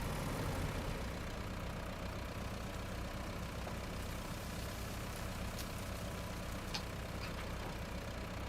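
A heavy truck engine idles in the Road Craft video game on the Autumn Collapse map, making a low, quiet, continuous rumble with no change in revs and a few faint clicks above it.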